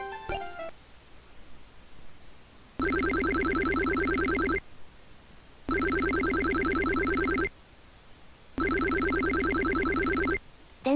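Electronic telephone ring from a PC Engine high school baseball management game, three long repeating trilled bursts with short pauses between them, loud and clear with no talking.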